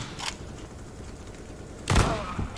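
Guns firing in CS:GO as two players shoot at once: a short early crack, then a loud burst of shots near the end with a trailing report, over low game background noise.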